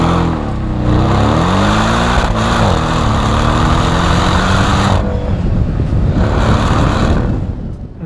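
A 2017 Porsche 718 Cayman S four-cylinder engine drones loudly and continuously from inside the car, its pitch rising and falling through revs, with steady road and wind roar underneath throughout.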